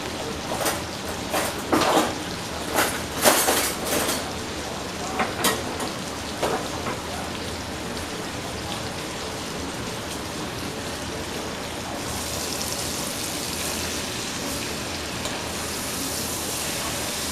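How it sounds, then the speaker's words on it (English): Chicken pieces browning in a hot pot give a steady sizzle, with a few sharp clicks and clatters of tongs turning the meat in the first seconds, then frying continues alone. "I'm going to get my tongs and turn the chicken to see how it's browning."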